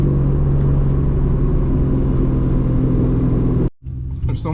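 A straight-piped 2003 Ford Mustang GT engine drones loudly and steadily from inside the car while driving, a deep rumbling tone that cuts out abruptly near the end before some lighter cabin noise.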